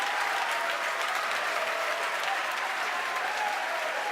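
A large crowd cheers and applauds continuously at a SpaceX Falcon Heavy launch carrying Arabsat 6A at Cape Canaveral, a dense steady roar of clapping and shouting captured close and loud.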